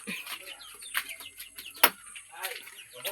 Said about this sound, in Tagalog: Atong manok.